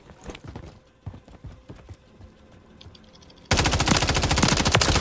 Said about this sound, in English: I think this is an assault rifle.